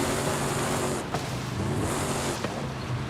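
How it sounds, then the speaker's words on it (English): Simulated car engine in a drifting video game, a steady revving drone with two brief shifts or dips, heard alone without voices. "Sounds less like a CTS, more like a Chevy Silverado."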